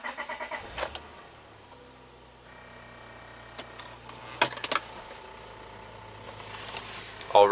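A Honda Accord V6 being repaired for a misfire cranks and starts, then idles with a low steady hum amid a few clanks and clicks nearby.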